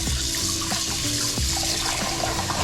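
Kitchen tap water runs into a bowl to soak raw chicken, a close, continuous splashing with a few sharper knocks and gurgles as the bowl fills, no speech.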